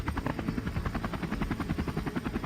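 A toy helicopter's rotor whirs steadily and close, its fast rhythmic chopping pulses running unbroken for the whole stretch with no voices.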